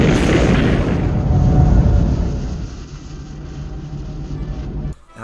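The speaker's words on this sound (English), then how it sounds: "Now wasn't that just such a clean and just beautiful takeoff right there?" Rocket launch with a loud, sustained roaring blast of exhaust that swells early and then slowly fades into a steady rumble.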